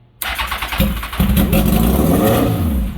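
A rebuilt Kawasaki ZX10R sport motorcycle engine cranks and catches, then roars loudly and revs up and down with a steady, rough idle underneath.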